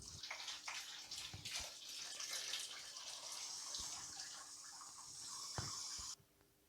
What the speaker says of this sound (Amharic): ያለውን ውሃ እንደፋዋለን።